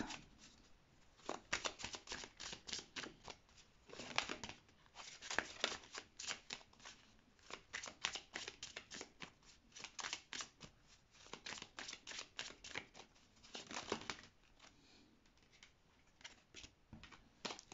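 Tarot cards being shuffled and drawn by hand in a French reading, a long run of crisp, close riffling and flicking bursts with short pauses between them, no talking.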